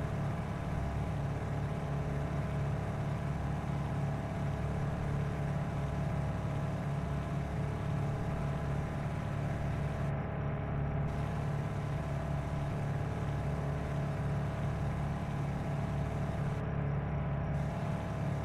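A car drives on asphalt in the video game War of the Worlds, giving a steady, unchanging engine and road hum that carries on alone throughout with no other sounds.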